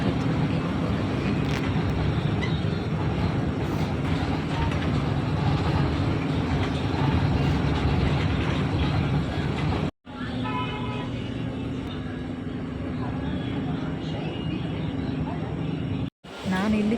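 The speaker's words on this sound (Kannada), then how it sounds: "ಚಿಗರಿ ಬಸ್ ಬಂತು, ಅದರೊಳಗೆ ಕೂತ್ಕೊಂಡು ಹೋಗ್ತಾ ಇದ್ದೇವೆ." Inside a Chigari bus travelling from Dharwad to Hubballi, a steady low engine and road rumble fills the cabin continuously, broken by two abrupt momentary gaps.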